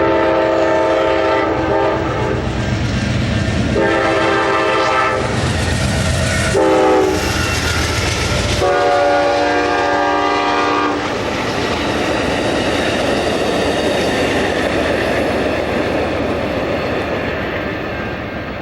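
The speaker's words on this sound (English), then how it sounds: "Okay. Train action." Amtrak train passing close by with repeated loud horn blasts, sustained and overlapping, followed by the roar and clatter of the cars rolling past that gradually eases, with no talking.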